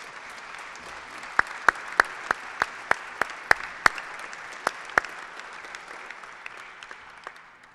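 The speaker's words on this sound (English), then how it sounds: "When's the last time you experienced such thunderous applause?" Sparse, scattered handclaps from a few people at a press conference, sharp and close over a faint hiss, fading out toward the end.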